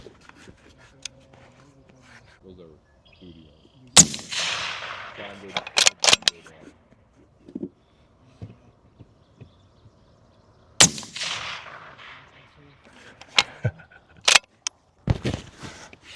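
Two sharp rifle shots crack out from a gun fitted with a 30mm optic, each a loud close blast trailing into a ringing decay, spaced several seconds apart among handling clatter and brief talk.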